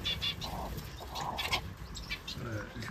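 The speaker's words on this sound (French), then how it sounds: "J'ai pas mal d'oiseaux quand même ici." Small finches such as Japanese munias and silverbills chirp in a garden aviary, a dense chorus of overlapping high tweets running throughout with low background noise.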